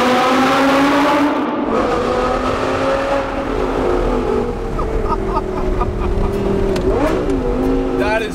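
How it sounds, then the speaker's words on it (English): A V10 Audi R8 with a six-speed gated manual revs loudly and close, its engine note climbing and falling in pitch through several throttle blips. "the V10 Audi R8 with the 6-speed gated manual that I drove when we were down in LA last winter"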